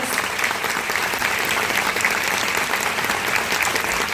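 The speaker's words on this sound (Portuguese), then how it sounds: "Então, uma salva de palmas." A crowd applauds steadily and loudly at a literary festival in Niterói, dense clapping sustained throughout without letting up.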